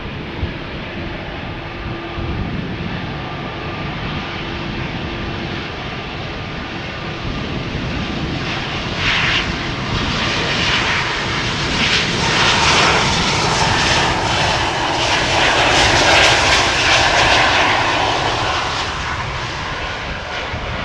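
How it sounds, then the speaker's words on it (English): An Embraer E195-E2 jet departs Amsterdam Schiphol for Copenhagen, its engine roar starting as a steady rumble and growing louder and brighter toward the end as it powers past close by. "First up, E2 Embraer 195, going to Copenhagen."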